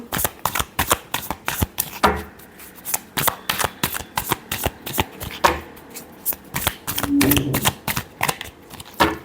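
Tarot cards are shuffled by hand in rapid crisp riffles and flicks, close and loud, with short pauses between bursts and a brief rustle of handling.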